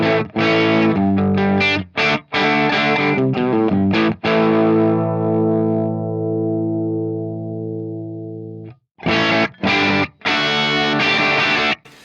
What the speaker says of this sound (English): This is what it sounds like so far.